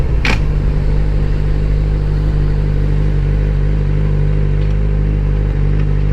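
A 600cc motorcycle engine pulls in third gear with a loud, steady droning rumble, close and continuous, with a brief clatter at the start and faint wind noise.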